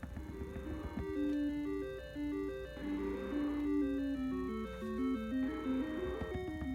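An eight-bit chiptune melody plays at the boss Aquamentus in level 1 of The Legend of Zelda, a quick looping sequence of bright square-wave notes over a low steady tone, with no voices.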